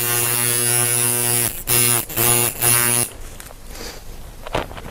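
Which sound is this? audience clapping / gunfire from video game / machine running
machine running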